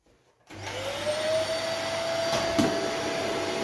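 Dyson vacuum cleaner starts up after a blockage is cleared, kicking in abruptly from near silence to a loud, steady broadband roar with a faint rising motor whine, running continuously close by.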